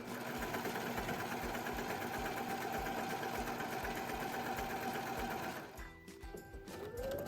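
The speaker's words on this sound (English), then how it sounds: "Here I am serging all the edges of that liner fabric." A serger sewing machine overlocking the edges of liner fabric, running with a loud, steady rapid mechanical whir for several seconds before slowing and stopping near the end.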